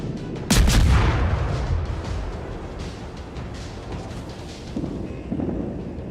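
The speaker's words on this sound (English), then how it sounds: "start blasting away with my guns here, trying to start some fires" Warship main guns firing in World of Warships, one loud booming salvo that rolls off into a long rumble, with fainter distant thuds near the end.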